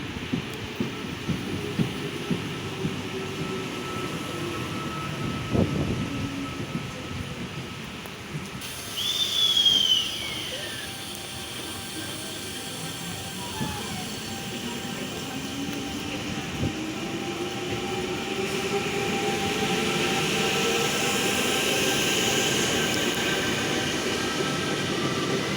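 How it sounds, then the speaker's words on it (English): A passenger train pulls into the Broadmeadow station platform in rain and wind, a long low rumble building over time, with brief squeals and a whistle-like tone partway through, the roar swelling toward the end. "The next train to arrive on platform 2 goes to Newcastle Interchange."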